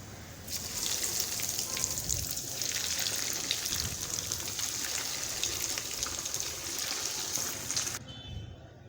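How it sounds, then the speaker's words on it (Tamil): Paneer rolls deep-frying in hot oil give a steady, dense sizzling bubble that holds evenly for about eight seconds, then cuts off abruptly near the end. "மீதி இருக்க எல்லாத்தையும் பன்னீர் ரோலையும் எண்ணெயில் ஃப்ரை பண்ணி எடுத்துடலாம்"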